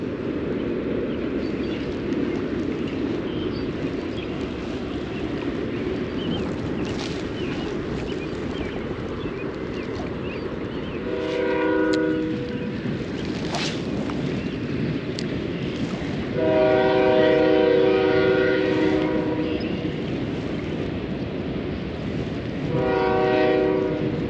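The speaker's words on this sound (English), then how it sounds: "Comes the train again." A train rolls past a quiet lakeside fishing spot, its horn sounding in several loud blasts over a steady rumble of wheels and cars; no one speaks.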